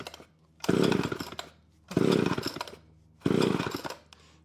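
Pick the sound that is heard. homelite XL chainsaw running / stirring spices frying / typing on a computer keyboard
homelite XL chainsaw running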